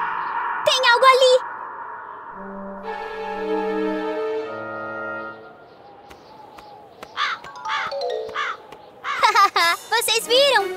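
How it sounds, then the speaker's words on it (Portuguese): A cartoon crow caws several times in a harsh, loud series near the end, after earlier tonal music and effects. "Era só um pássaro."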